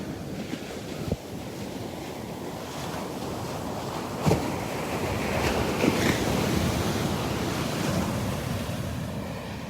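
Big surf rolling in at Barefoot Beach Preserve, Florida, a continuous wash of breaking waves with a few louder crashes, alone with some wind buffeting the microphone.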